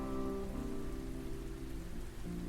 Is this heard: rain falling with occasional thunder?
yes